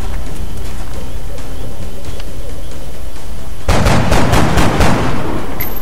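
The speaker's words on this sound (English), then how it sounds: "Corporal Malik shoots but does not kill." Gunfire in XCOM: Enemy Unknown during a battle in Berlin, a loud rapid burst of several shots fired in close succession after a stretch of steady background noise.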